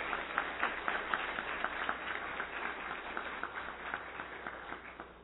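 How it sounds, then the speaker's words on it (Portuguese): Audience at a formal solemn session applauds steadily for several seconds, a dense, even wash of many hands clapping, slightly distant and muffled. "pedir que vocês possam aplaudir os 70 anos do CIPRO"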